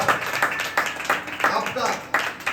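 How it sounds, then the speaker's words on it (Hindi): Rhythmic clapping from a church congregation, a series of evenly spaced claps mixed with talk. "ताली बजेगी।"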